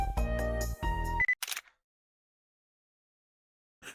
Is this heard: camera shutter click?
yes